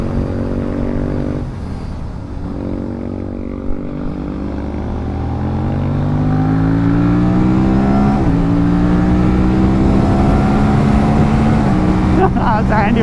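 An Aprilia RS 457 motorcycle cruises on a highway, its close steady engine drone rising in pitch as it accelerates, with wind rush around it throughout.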